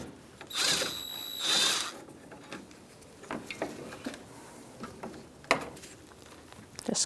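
Ratchet with a 10mm socket unbolting the horn on a 2010-2013 Kia Soul 2.0L, two bursts of quick close clicking at the start followed by scattered faint taps and clinks.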